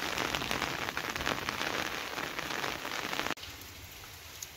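Heavy rain pours steadily onto surfaces during a day of nonstop downpour that has turned the water muddy, a dense loud hiss that drops to a quieter, softer patter near the end.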